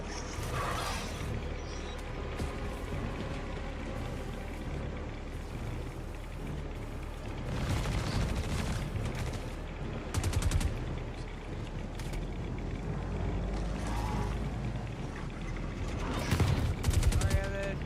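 Minigun fire in a video game, steady rattling bursts under a continuous din, with louder dense flurries near the middle and again toward the end and a voice speaking in places.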